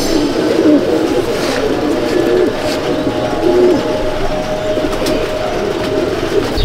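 Pigeons coo steadily in a loft in Andul, Howrah, a dense overlapping chorus of low rolling calls that runs throughout at close range, with faint background noise and no talk.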